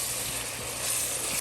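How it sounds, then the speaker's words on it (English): Three large onions fry in a little vegetable oil inside a pressure cooker, with a loud, steady, close sizzle that runs throughout without a break and with no talking. "in the pressure cooker, we took a little bit of vegetable oil and we put in 3 large onions. And we're just gonna fry them"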